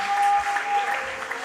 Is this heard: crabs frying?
no